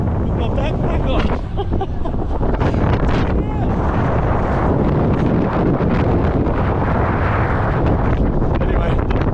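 Heavy, roaring wind buffets the microphone without pause while riding on the back of a moving van in the Hunza Valley, with a low rumble underneath throughout.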